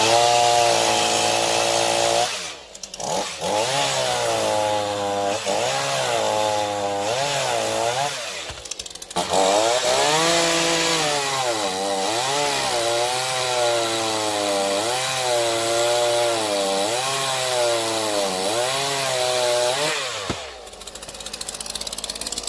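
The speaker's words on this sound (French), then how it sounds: "je vais venir couper aux 3/4 de la branche ou à la moitié ici, dessous" A Sterwins PCS2-35.31 chainsaw cuts through a tree branch, its loud engine snarling and rising and falling in pitch as the chain bites, with brief drops to idle between cuts.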